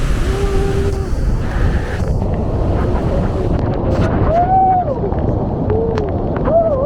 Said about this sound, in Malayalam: ഈ വെള്ളച്ചാട്ടത്തിൻ്റെ ഭീകരതയും അതിൻ്റെ ശബ്ദവും നിങ്ങൾക്ക് കേൾക്കുന്നതിന് വേണ്ടി ഇതിൻ്റെ ഒറിജിനൽ സൗണ്ട് തന്നെയാണ് ഈ വീഡിയോയിൽ ഞാൻ പ്ലേ ചെയ്തിരിക്കുന്നത്